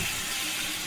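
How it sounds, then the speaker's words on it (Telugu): Tamarind water is poured over a simmering fish head curry, giving a steady, close, broad splashing wash with no break and no speech. "ఇప్పుడు కొద్దిగా చింతకాయ నీళ్ళు వేస్తున్నాను పైకి"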